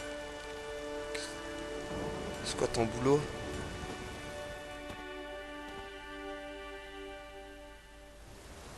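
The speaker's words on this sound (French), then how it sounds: "Mais restons pas sous la pluie." Steady rain patters and hisses in The Witcher 3 over a soft musical backdrop, with a voice briefly speaking French in the middle.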